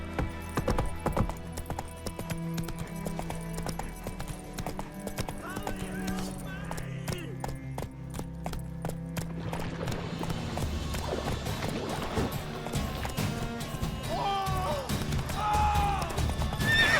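Galloping hooves of Roach, a horse in The Witcher 3: Wild Hunt, pound in a steady rhythm with whinnies under a dense music score, and a voice speaks partway through.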